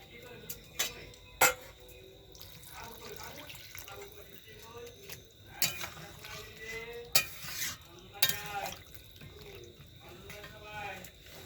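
Water goes into a pan of chicken pakoras for Bengali chili chicken, with sizzling, stirring and occasional sharp metallic clinks of utensil on pan at close range, plus some voice.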